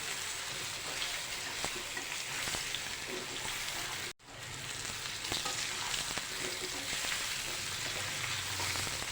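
Sizzling in a hot pan with steady scraping and stirring of a cabbage snack mixture, close and continuous, broken by a brief pause before the frying noise resumes.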